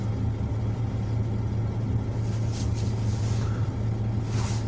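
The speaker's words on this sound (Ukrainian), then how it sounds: "Обов'язково прогрівайте машину." A car engine idling while warming up in freezing cold weather, a steady low hum that runs unbroken throughout at moderate level, with faint higher hiss rising in the second half.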